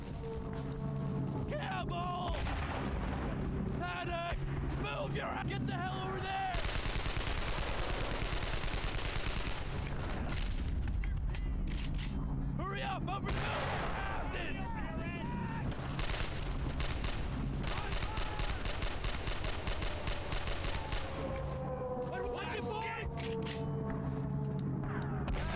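Dense, continuous gunfire and booming shots from the WWII shooter Brothers in Arms: Earned in Blood, loud and nearly unbroken throughout, with rapid machine-gun rattles layered over heavier blasts.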